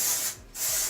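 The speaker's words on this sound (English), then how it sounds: "now I'm going to take a little bit of the texture spray" Texture spray mists onto styled hair in two short bursts of airy hiss, close and fairly loud, separated by a brief pause, with no talking.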